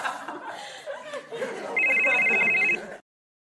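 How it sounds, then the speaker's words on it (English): Telephone ringtone sound effect, a steady electronic trill lasting about a second, fairly loud over background chatter and laughter from a group of people before it cuts off. "Why is the phone ringing?"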